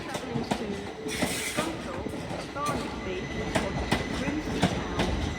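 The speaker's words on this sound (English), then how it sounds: "Departing now is your 1327 Northern train service, starting here at Doncaster to Leeds" A Northern train departs Doncaster for Leeds with rhythmic wheel clicks and squeals over rumbling rail noise, moderately distant, with station chatter in the background.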